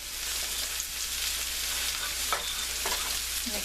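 A black bean mixture fries in a pan as sugar is stirred in, a constant close sizzle broken by a few scraping strokes of the spoon, with no voices.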